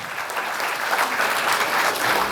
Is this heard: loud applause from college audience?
yes